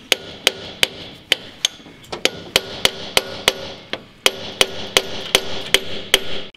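Sharp metallic hammer blows strike a chisel on the cylinder head of a 95-year-old car in quick, steady succession, close by, pausing briefly midway before the rapid tapping resumes.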